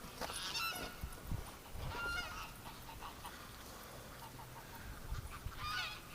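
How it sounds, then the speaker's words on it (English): Geese honk in repeated short bursts outdoors in winter as one picks on a duck, moderately distant calls over a low background rumble. "A goose was picking on a duck."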